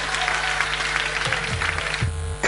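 An audience applauds a singer at a performance, a steady wash of clapping over a low hum, with a brief louder burst at the very end.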